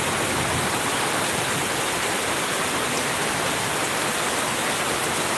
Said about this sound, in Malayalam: ഈ മഴയ്ക്ക് ഈ വർഷം പെയ്ത ഏറ്റവും വലിയ മഴ